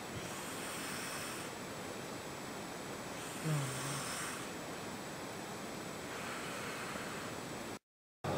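Steady, breathy snoring inside a tent at a winter wild camp in Scotland rumbles on with a continuous hiss over it, then cuts out briefly near the end.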